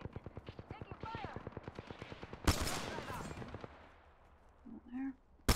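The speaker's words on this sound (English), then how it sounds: "Taking fire!" Gunfire in the game Apex Legends: a rapid steady burst of automatic shots, then a sharp loud blast with a noisy rumbling tail, brief in-game voice sounds and a final crack.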